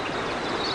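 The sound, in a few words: Cox's River flowing behind the campsite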